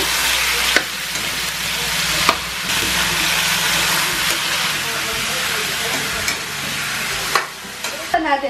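Chicken pieces sizzle and fry in a pan while being stirred, a continuous crackling hiss broken by several sharp scraping clatters of the utensil, close and loud with no talking.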